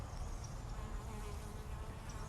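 Honeybees clustered in a tight ball around their queen after a robbing, making a continuous dense buzz that holds steady and fairly close throughout, with no voices over it.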